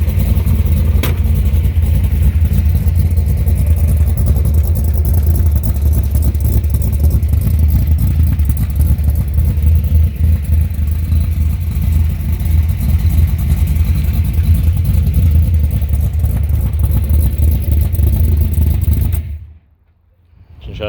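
1968 Ford Falcon Futura with its original 289 V8 and mufflers, running and revving loudly up close for about twenty seconds, a deep throbbing exhaust rumble that rises and falls before cutting off abruptly at the end.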